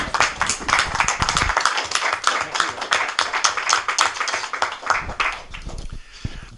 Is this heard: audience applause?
yes